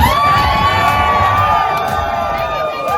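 A live audience at a Nerd Nite talk in DC cheers and shouts loudly and continuously, a dense wall of whoops and high voices holding steady throughout.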